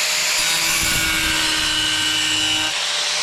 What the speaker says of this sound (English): just let the weight of the grinder do it